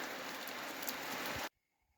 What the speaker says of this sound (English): And we're having rain today. Actual proper rain.